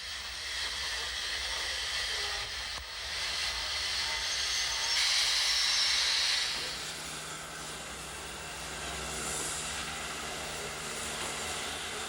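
A steam train rolls along the Bodensee-Toggenburg Railway in the Swiss hills near Degersheim, a steady distant rumble and soft hissing with a brief brighter hiss partway through, no voices.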